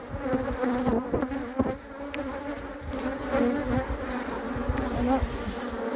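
Honeybees buzz steadily around a small nucleus hive being stocked as provisions for a new colony, a dense close drone of many insects with fluctuating pitch, no voices.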